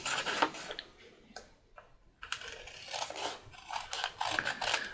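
Long scissors trim the edge off vellum and glassine paper in a craft room, giving soft crisp snipping and rustling strokes in bursts at close range with no talk.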